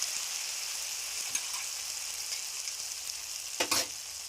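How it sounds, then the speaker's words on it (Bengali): Pointed gourd curry stir-fried in a pan, a faint soft sizzle with a few light stirring knocks and a louder clatter near the end. "নেড়ে নেড়ে কষিয়ে নেব ভালো করে।"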